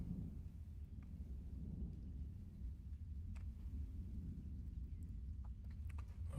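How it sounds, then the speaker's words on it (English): Thunder rumbling during a storm, a faint, distant and continuous low roll lasting several seconds with no talking. "Yeah, you hear that lightning? I mean, all that thunder."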